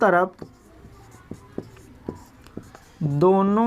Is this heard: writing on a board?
yes